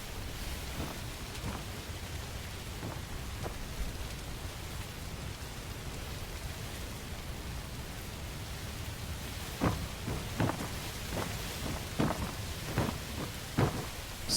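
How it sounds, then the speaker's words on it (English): Steady downpour of rain in the video game Where Winds Meet, a dense continuous hiss with scattered sharper cracks and low rumbles of thunder building in the latter half. "They'd better get inside before this downpour soaks you through."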